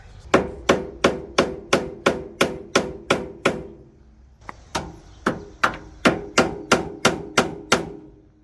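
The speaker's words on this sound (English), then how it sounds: "the only way I can think of crimping it is with a hammer and a screwdriver." Steady metallic hammer strikes on a screwdriver, crimping a cable, in two rapid runs of about ten blows each, separated by a brief pause, close and sharp.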